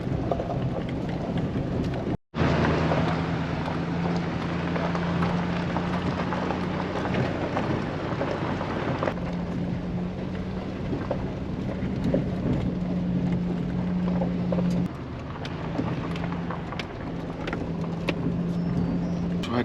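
A full-size pickup truck climbs a mountain road, its engine humming low and steady at close range, mixed with a constant rumble of tires and road noise and a short break near the start.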